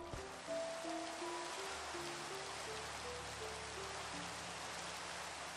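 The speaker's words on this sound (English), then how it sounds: "Oh my god, does the rain ever stop?" Steady rain pours down in the Minecraft video game, a dense even hiss that lasts throughout, with soft melodic game music notes drifting over it and no voices.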